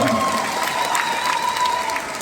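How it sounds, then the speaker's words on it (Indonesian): Crowd applause at a halal bihalal gathering of PKS Bogor supporters in a sports hall, a steady dense clapping with some cheering that fills the whole stretch and tapers slightly at the end. "Tepuk tangan untuk PKS Bogor."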